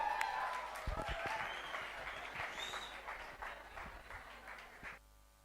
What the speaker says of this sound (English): Please give a round of applause for Muskan Suryavanshi bringing the next performance of Kathak.